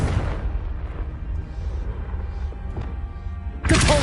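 A Confringo blasting spell in the Hogwarts Legacy video game erupts in a loud, sustained booming rumble, dense low-end roar that dips slightly midway, then a sharp fresh blast bursts in near the end.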